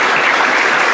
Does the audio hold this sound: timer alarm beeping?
no